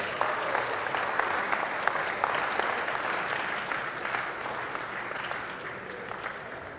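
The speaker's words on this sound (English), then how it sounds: "Give this man a round of applause." An audience at a university talk bursts into sustained clapping, a steady wash of many hands at moderate volume that gradually thins toward the end.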